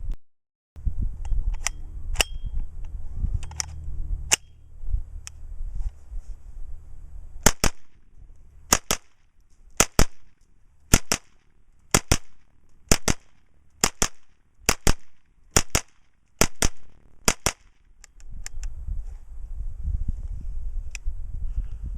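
A GSG5 .22 rifle fires a rapid string of about fourteen sharp, loud shots at a steady quick rhythm, with handling noise before and after and no talking.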